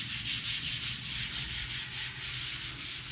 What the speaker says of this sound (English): Everything's been sanded with 150.